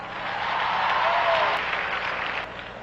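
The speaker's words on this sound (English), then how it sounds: "Clap loud." A burst of applause from a church sermon audience, swelling and then easing off, sustained for a few seconds.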